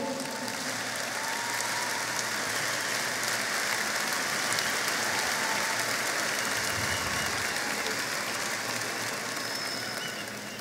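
At a government report event broadcast on television, a large audience applauds steadily and loudly for about ten seconds, a dense, even wash of clapping with no talk over it.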